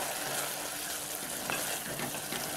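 Tomato with fenugreek, cumin and turmeric powders sizzles in a pan while it is stirred and sautéed, making a steady dense frying hiss throughout with light scraping, close and alone.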